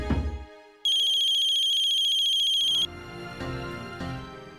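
A phone ringtone sounds loudly and up close as a sustained bright electronic tone lasting about two seconds, with other tonal music playing before and after it.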